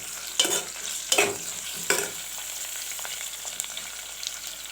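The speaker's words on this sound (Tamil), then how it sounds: "நல்லா வதக்கிடணும்." Vegetables sautéing in a pan for veg pulao, three sharp stirring scrapes in the first two seconds over a soft continuous sizzle.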